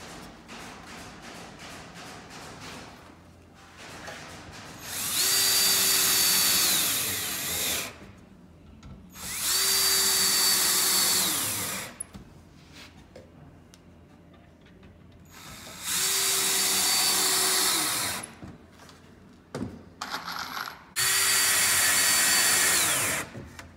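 A power drill drives screws into the leg of an Adirondack chair during assembly, running in four loud, sustained whirring bursts separated by quiet gaps with light handling clatter.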